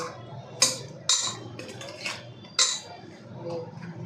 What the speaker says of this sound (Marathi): कुकरचं ढक्कन लावायला लागले आहे